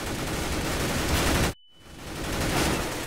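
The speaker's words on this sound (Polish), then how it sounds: "ależ rozpędza te full auto po całej ścianie" Full-auto gunfire sprays across a wall during a Counter-Strike-style competitive shooter showmatch, a dense loud burst that cuts off abruptly, pauses briefly, then continues as sustained noisy fire.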